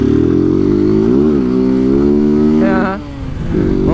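A delivery motorcycle accelerates on a city street, its engine revving up loud and close through a gear shift, dipping briefly before pulling again.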